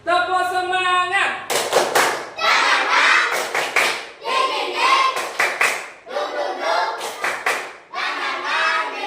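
Children in a classroom do a rhythmic 'tepuk semangat' clapping chant, sharp bursts of claps in patterned groups alternating with chanted voices, loud and close. A sung or spoken tone opens the passage.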